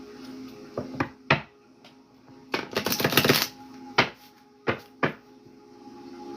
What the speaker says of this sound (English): You go ahead and shuffle the deck one more time.